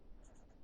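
Short, quiet strokes of a marker or chalk on a board during a high-school maths lesson on matrices, a few brief scratchy marks over faint room noise.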